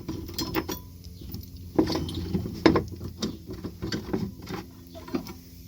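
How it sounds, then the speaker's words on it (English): Hand ratchet clicking as it turns half-inch socket bolts on a Freightliner Cascadia cab mount bar in a truck shop, a steady run of close, sharp mechanical clicks and taps in bursts, with no talking. "I'm just gonna use the ratchet because you don't have enough space to remove with the impact gun"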